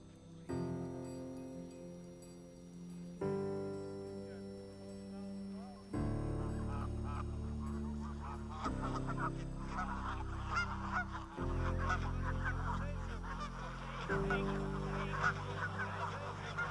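A flock of geese honks repeatedly in overlapping calls, loud and close, with some nearer and fainter birds layered over a continuous background.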